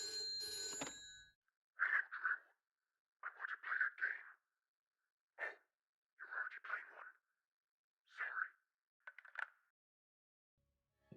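A telephone rings in the video game Lies of P, with clear, close bursts of trilling bell rings repeating at steady intervals against near silence after a short burst of other game sound at the start.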